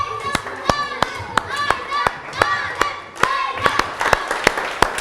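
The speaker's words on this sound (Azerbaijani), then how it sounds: "Əyləşirsiniz və münsiflər heyətini alqışlarınızla yola salırıq." A talent festival audience claps for the departing jury, with sharp, fairly rhythmic handclaps close by, mixed with voices from the crowd throughout.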